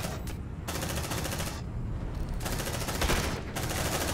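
An automated sentry gun fires in the sci-fi game Aliens: Dark Descent, long continuous bursts of rapid shots broken by brief pauses, loud and steady with no speech.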